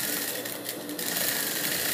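A sewing machine stitches the side seams of a blue dress, a loud, continuous close-up whir of fast needle strokes.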